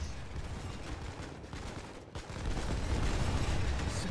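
Artillery rolling fire in the war game Foxhole, a dense continuous roar of overlapping blasts and rumbling impacts that swells louder in the second half, with no voices.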